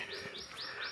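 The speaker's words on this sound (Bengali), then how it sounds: "পাখিদের কিচিরমিচির," Small birds chirp in a quiet hill village on the walk toward Sita Pahar. Several faint, thin tweets repeat quickly in a short run, distant and alone.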